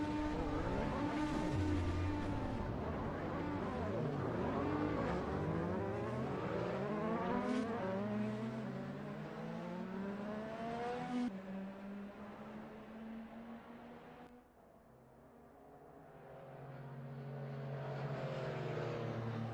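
A field of IndyCar race cars rolls off on the formation lap in a racing video game, several engines droning and revving at once with shifting pitches, steady and fairly loud, briefly dipping before rising again.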